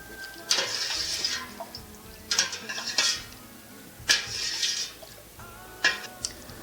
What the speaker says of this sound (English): You want to stir that